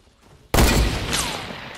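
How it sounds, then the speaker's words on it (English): A single sharp gunshot in Fortnite, a sudden loud crack followed by a decaying, echoing tail. "Oh, somebody tried to shoot me."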